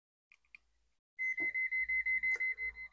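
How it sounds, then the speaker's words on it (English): A touchless voltage tester chirps twice faintly, then after a pause sounds a loud, steady run of rapid repeated beeps at a close range, indicating live power at an outlet. "I will use my client tool's touchless voltage tester to make sure that the power is"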